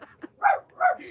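A house dog barks at a television, giving two loud, close barks after a small yip. No one speaks.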